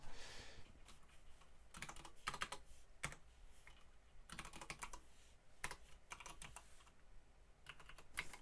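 Keyboard typing on a computer while editing text in a Unity UI engine, heard as bursts of quick, close key clicks separated by short pauses, with no voices.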